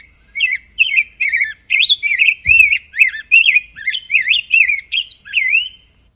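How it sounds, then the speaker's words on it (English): A rose-breasted grosbeak sings a bubbly, musical song of rich warbled phrases continuously at close range, one short low thump partway through. "Rose-breasted grosbeak is another one. It's kind of got a nice run-on, bubbly song"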